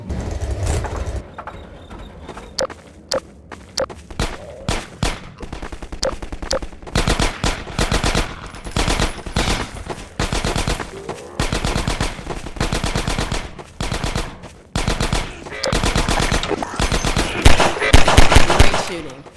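Loud bursts of automatic gunfire from Half-Life 2: Episode Two come in repeated rapid volleys, some short and some sustained, mixed with an engine hum from a vehicle in between.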